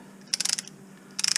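Ratchet-style brake caliper spreader clicking in two quick bursts of sharp metallic ratchet ticks, close and clear with a pause between.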